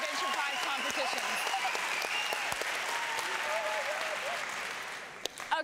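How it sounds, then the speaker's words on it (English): Sustained audience applause at an inventors' prize competition show, a large crowd clapping steadily with voices and cheers mixed in, tapering off at the close. "How about a big round of applause for all of them"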